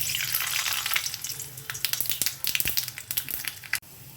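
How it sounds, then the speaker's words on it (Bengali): Mustard seeds and a dried red chili hitting hot mustard oil, a loud hiss at first giving way to rapid irregular crackles and pops as the seeds spatter, close and without speech. "তেল গরম হয়ে গেছে এবার এই তেলের উপরে দেব সর্ষে আর একটা শুকনো লঙ্কা"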